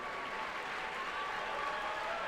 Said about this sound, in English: Let's have a round of applause for all of our teams competing here on the Aptiv Foundation field.